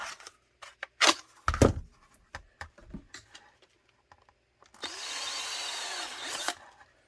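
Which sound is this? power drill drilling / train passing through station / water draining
power drill drilling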